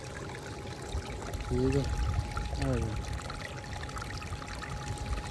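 Water from a solar-powered tube well pours steadily into a pond, a constant splashing rush heard close, with brief speech over it.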